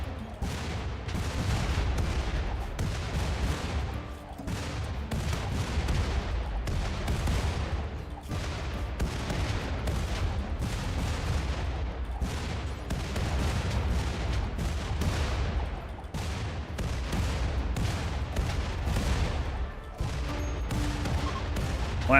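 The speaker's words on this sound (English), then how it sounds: "At least they're getting rid of some of the rockets down there on those guys." Rocket explosions in the video game RimWorld crackle in a dense, continuous barrage of rapid blasts and booms, steady and loud throughout with no pauses.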